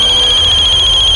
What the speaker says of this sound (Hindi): किसका फोन बजा बे? किसका फोन बजा?